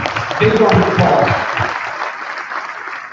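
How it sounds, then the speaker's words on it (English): A seminar audience claps loudly after a donation is announced, a dense burst of applause that swells and then slowly fades over a few seconds. "Big round of applause"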